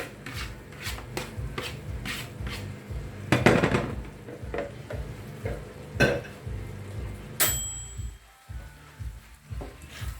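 Tagliatelle with mushrooms being stirred in a pan, with repeated scraping and knocking of a utensil against the pan in an uneven rhythm, close and fairly loud, with a few sharper clanks.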